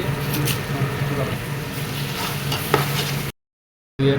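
Onion, ginger and garlic frying in oil for prawn biryani, a steady close sizzle with stirring scrapes, cutting out briefly near the end.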